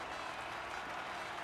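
A crowd applauds at the podium ceremony of a Formula-style racing game in Spain, a dense, even wash of clapping that holds steady for the whole moment at moderate volume.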